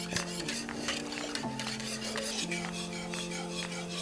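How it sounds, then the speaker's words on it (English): A spoon scrapes and stirs steadily around a pot of creamy chicken soup, with a soft continuous swish, light metallic clinks and a faint simmer underneath, close up and with no talking. "And you'll need to keep stirring this. You don't want the bottom to scorch."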